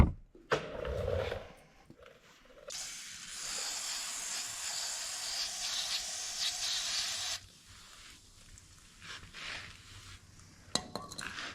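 Penetrating oil sprays in a long steady hiss onto rusty, 65-year-old broken bolts, brief handling clicks before it and quieter fiddling noises afterward, close by with no talk.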